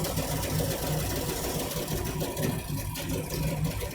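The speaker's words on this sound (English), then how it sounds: "There's a giant air conditioner on the apartment building across the street, which bzzz in the background." Large air conditioner on an apartment building across the street gives a steady, grainy mechanical buzz and hum, constant in level and filling the background with no other clear sounds over it.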